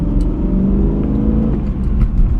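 A Porsche Cayenne E-Hybrid S with a 3-litre V6 hybrid engine revs hard while accelerating on the road, a loud continuous engine drone with rising pitch and no talking.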